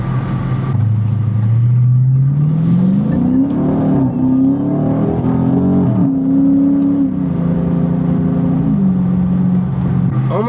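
A 2015 Dodge Charger Scat Pack with nearly 123,000 miles, its V8 engine droning low and steady nearby, rising and falling gently in pitch as it settles, then holds a smooth idle-like hum; no voices.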